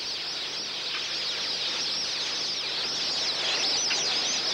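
A huge flock of whistling ducks, over ten thousand birds, in the wilds of Australia's Northern Territory, giving a dense, continuous wash of high whistling calls that sounds steady and fairly loud throughout.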